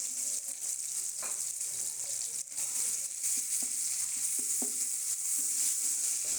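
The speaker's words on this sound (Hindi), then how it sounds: "तो प्याज ब्राउन कर लिया हमने और इसमें डाल दिया है थोड़ा सा गरम मसाला, जिसमें है ज़ीरा, लौंग और काली मिर्चें।" Browned onions fry with cumin, cloves and black pepper in a pulao pot, giving a steady close sizzle. Scattered clicks of stirring run through it.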